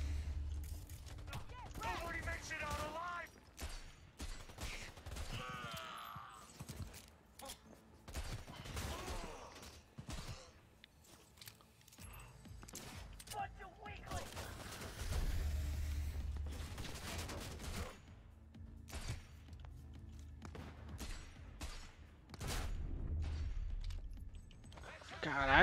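Gunfire in Cyberpunk 2077, including sniper rifle shots, crackles in repeated bursts and single cracks amid mechanical clatter across the whole stretch, with someone talking over parts of it.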